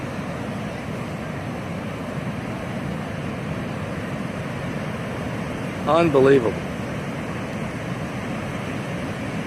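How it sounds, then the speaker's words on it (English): Pacific Ocean surf roars as a broad, steady wash of noise along the shore, continuous and fairly loud, with a brief spoken exclamation partway through. "The seas are roaring."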